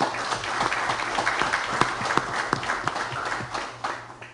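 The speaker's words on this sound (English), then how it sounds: "can we give them a round of applause again?" Audience applause at a Chester City Council meeting honoring department service, a steady wash of many hands clapping for several seconds with a few sharper individual claps standing out.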